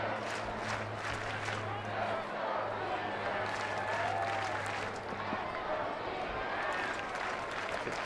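A baseball stadium crowd at a San Francisco–Arizona game keeps up a continuous roar of cheering and clapping, distant and diffuse, with a low steady hum beneath.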